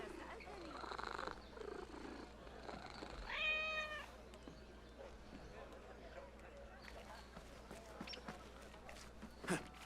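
A cat in Assassin's Creed Mirage being petted, heard as a brief purring meow in the middle, fairly faint under game ambience, footsteps and a voice talking.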